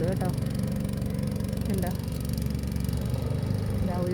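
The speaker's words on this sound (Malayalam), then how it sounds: "ഒരു ബോട്ട് കറങ്ങാൻ പോയിട്ട് തിരിച്ച് വരുന്നുണ്ട്," A motor boat cruises back across a lake at Ambattukadavu among blooming water lilies, its engine a steady low drone throughout, with a person speaking briefly over it.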